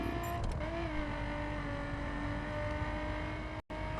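A car in The Crew racing game holds a steady engine drone with tyre whine while drifting, continuous and moderately loud, cutting out briefly near the end.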